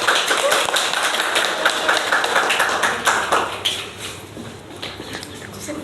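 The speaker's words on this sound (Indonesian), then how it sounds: "berikan tepuk tangannya" Classroom clapping during a micro-teaching lesson on plant parts, a dense, steady patter of many hands close by that thins out toward the end, with faint voices underneath.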